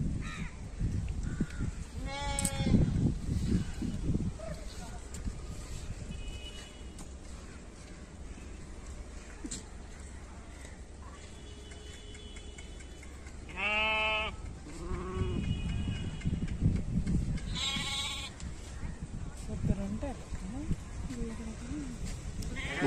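A flock of about 200 sheep and goats near Palasa bleats repeatedly, with several loud, close calls standing out over a steady outdoor background, and voices talk at times.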